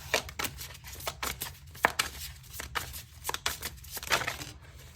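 Tarot cards being shuffled by hand in a series of quick, crisp riffling bursts, close and fairly loud, with short pauses between them.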